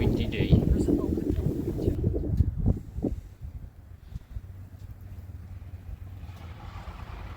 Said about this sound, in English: So you can hear the wind.